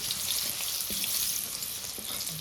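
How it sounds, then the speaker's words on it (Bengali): Carrot halves frying in hot oil give a steady, close sizzle with a few soft knocks of a utensil in the pan, no voices. "একইভাবে গাজরগুলো ভেজে নেব।"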